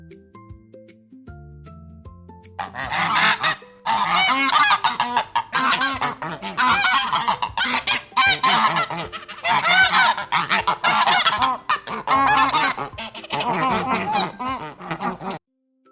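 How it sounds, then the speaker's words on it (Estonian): Domestic geese honk loudly and repeatedly in dense overlapping bursts for most of the stretch, after a soft opening of background music; no talking. "Hani on kodulind."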